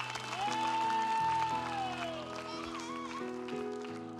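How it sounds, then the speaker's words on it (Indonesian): Applause from a television stage-show audience rises under loud music with a bright melodic line and sustained chords, the clapping partly masked by the music. "Boleh tepuk tangan semangat untuk Adelia."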